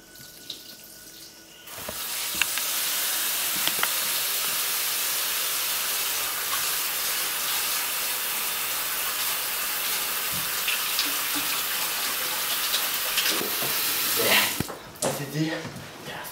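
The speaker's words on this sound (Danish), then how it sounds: "Så skal man altid huske at bruge vand til at vaske hænder." Kitchen tap water running steadily while hands are washed, a loud continuous splashing hiss starting after a short pause and lasting most of the clip, then cut off with a few small knocks at the end.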